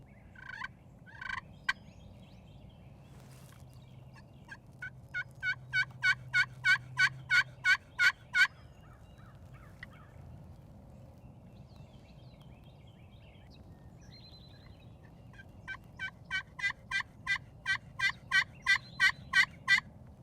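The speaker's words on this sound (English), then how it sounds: "try to pinpoint a gobbling bird" Two series of rapid, rattling gobbles from a wild turkey in the woods, fairly distant and moderately loud, separated by a long quiet stretch with faint outdoor ambience.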